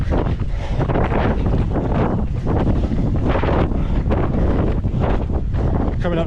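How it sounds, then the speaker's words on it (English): Strong wind buffets the microphone continuously in loud, gusting rumbles and roars during an outdoor run, with no clear voices. "Pretty windy this way."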